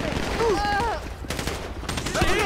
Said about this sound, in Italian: Centrale, ci stanno sparando